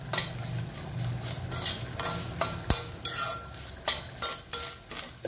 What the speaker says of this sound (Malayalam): ഇനി നമ്മുടെ തേങ്ങ നന്നായിട്ട് വറുത്തെടുക്കണം